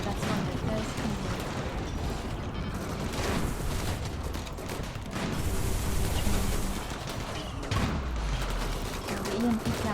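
Cannons firing in the Rimworld video game, a rapid scattered barrage of booming shots and crackling impacts, fairly faint, with talking over parts of it.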